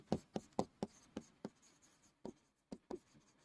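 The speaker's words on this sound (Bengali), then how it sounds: "তো আমি এটা লিখে দিচ্ছি" Pen or chalk writing out an equation, a series of sharp tapping strokes in uneven rhythm, about a dozen distinct scratches and taps, close and quiet, with no talk.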